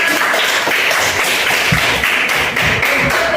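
Schoolchildren in a classroom clap for a classmate, a loose irregular patter of close hand slaps with some thuds and taps mixed in.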